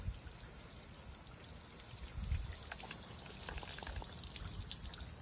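Water pours and splashes steadily over a bare Ryobi power tool battery circuit board with its cover removed, a continuous close trickling and spattering with no talk.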